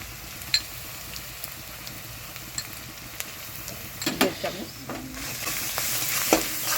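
Garlic paste with onions frying in hot oil for a Bengal-style mustard pabda fish curry, a steady soft sizzle with stirring clinks and scrapes that grow louder and busier toward the end; a voice briefly speaks.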